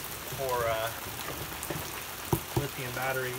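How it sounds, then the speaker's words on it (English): Rain falls steadily outdoors as a soft continuous patter beneath someone talking in the foreground, with a couple of sharp handling knocks partway through. "it's raining and generally crappy outside, so apologies for that noise"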